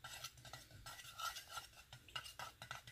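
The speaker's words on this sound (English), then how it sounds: "So I'm just going to use a plastic spoon to stir it." A hibiscus and fenugreek hair rinse stirred with a plastic spoon: soft, quiet, irregular clicks and swishes of the spoon moving through the liquid, heard close with no speech.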